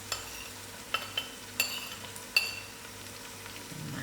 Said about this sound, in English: And then I'll put in my ground spice together with my mixed masalas.